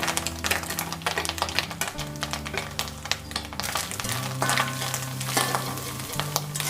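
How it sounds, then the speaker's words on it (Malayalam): Dry crackling and scraping as grated coconut roasts over low heat and is stirred in a pan, with soft music playing in the background. "ഇത് നല്ലോണം ചുമക്ക വറുത്തെടുക്കണം. തീ കുറച്ചിട്ട് വേണം വറുക്കാൻ."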